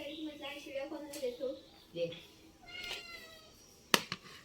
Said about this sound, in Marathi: आणि आमची छोटी छोटी मांजरं नुसती म्याव म्याव करतात